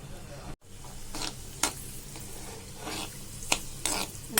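Cashew nuts frying in melted ghee in a pan for sago kesari, a steady soft sizzle with occasional scrapes and stirring clinks of a spoon against the vessel, close up and with no talking.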